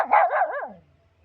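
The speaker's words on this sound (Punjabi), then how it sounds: "ਤੇ ਇਧਰ ਬਦਮਾਸ਼ ਕੁੱਤੇ ਭੌਂਕਦੇ ਦੂਰ ਹੋ ਉਧਰ" A single sharp dog bark, close and loud, dropping quickly into quiet.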